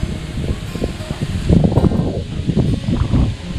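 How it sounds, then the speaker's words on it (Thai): Wind blowing across open rural fields and farmland in Uthai Thani, Thailand, a steady rustling breeze with soft low gusts swelling midway, close and moderately loud, with no voices. "บรรยากาศชิวๆนะ เสียงลมเสียง ธรรมชาตินะครับ จาก ท้องทุ่งนะฮะ"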